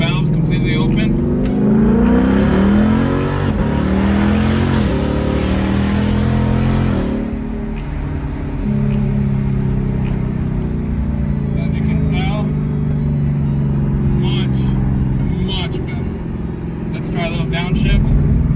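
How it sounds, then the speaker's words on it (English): A 2019 Mustang GT with a Borla Atak catback exhaust and valves fully open, heard from inside as it accelerates hard with a loud rising V8 roar, then eases back to a steady droning cruise. Someone talks over the engine. "this is our first drive with the Borla Atak catback. This is with the valves completely open."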